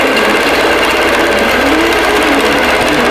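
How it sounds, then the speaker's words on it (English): IQ computerized quilting machine back stitching up the spine of a wholecloth quilt, a loud, steady whirring motor with a fast regular needle chatter running without pause. "The IQ does a beautiful job of back stitching."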